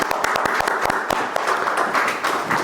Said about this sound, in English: here's a great round of applause for our partner Greenwoods Legal for hosting us at a lovely venue